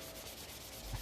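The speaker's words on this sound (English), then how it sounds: "Is just a light buff sanding on this, on the whole thing." A part gets a light buff sanding as paint prep, giving a brief, faint, even rubbing scratch that is heard alone.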